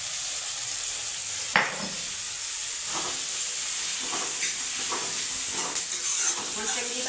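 Garlic and ginger paste sizzles in hot oil with the base for a potato and chickpea curry, giving a steady hiss broken by occasional scraping stirs, while a voice talks quietly now and then.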